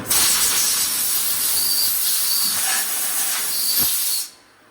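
Compressed air blasts chips off a machined part inside a Haas VF3 CNC mill, a loud continuous hiss lasting about four seconds with a few small knocks, then cutting off abruptly.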